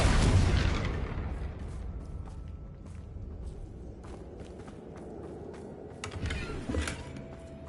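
Confringo blasting spell in Hogwarts Legacy: a loud burst at the start that fades into a rumbling decay, followed by quieter scattered impacts and footsteps, with a second smaller boom later.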